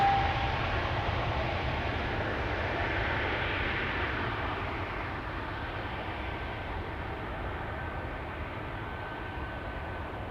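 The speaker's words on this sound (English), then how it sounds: "Finnair A350 apparently just arrived. See that taxiing in the background." A Finnair A350 airliner taxis at Amsterdam Schiphol Airport, a broad steady jet-engine roar at a distance that slowly fades a little, with no talk.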